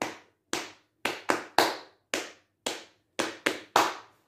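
A run of ten crisp palm claps on the knees in an uneven rhythmic pattern, some falling in quick pairs, heard up close and alone, marking the beat for El Rap del Esqueleto.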